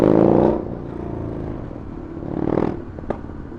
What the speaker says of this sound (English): Lakes' bike is obnoxiously loud now